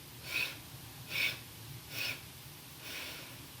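Slow, deep breaths drawn through the nose during a gentle yoga session, four soft airy swells spaced roughly evenly, close and quiet with stillness between them and no speech.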